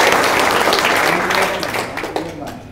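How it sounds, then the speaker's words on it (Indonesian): Audience applause at a live evening gathering, loud and dense at first and fading toward the end, with voices and some talk mixed in underneath. "Tepuk tangan dong untuk Eko."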